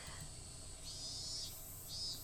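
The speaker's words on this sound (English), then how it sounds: "The chirping of the Higurashi hurt my ears." Higurashi cicadas chirping in hot summer air beside a car, a faint high buzzing drone that swells twice in long shimmering bursts over low background noise.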